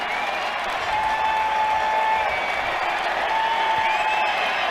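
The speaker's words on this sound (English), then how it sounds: "Crowd on its feet here at Comerica Park" A baseball crowd at Comerica Park cheers and applauds as the Detroit Tigers near the final pitch against the Boston Red Sox, a dense, steady roar of clapping and voices that holds loud throughout.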